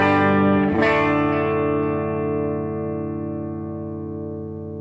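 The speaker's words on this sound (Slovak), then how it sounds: "Takto znie kombo suché." Electric guitar played dry through a Matchless Spitfire clone tube combo amp, a single strummed chord ringing out loud and sustaining, slowly decaying with rich harmonics and no other sounds.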